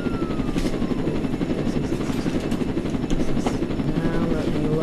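Helicopter flying in the Roblox video game, a steady rotor-and-engine drone that holds at an even, fairly loud level throughout with no let-up.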